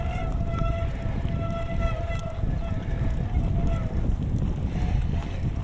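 Bicycle disc brake squealing as it is dragged under pressure to build heat, a steady thin tonal squeal with faint harmonics riding over constant wind and rolling noise, gradually getting quieter.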